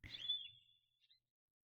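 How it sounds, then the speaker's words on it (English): A bird gives one thin, sustained high whistle with a brief trill at its end, faint and alone against near silence in an island ambience in a video game. "There's some bird chirping."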